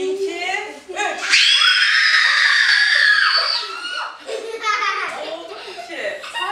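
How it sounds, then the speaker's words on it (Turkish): Children in a self-defence class let out a loud, sustained scream together for about two seconds, framed by excited child chatter and giggles before and after. "Ben şimdi 1, 2, 3 dediğimde o kadar güçlü bir çığlık atalım ki"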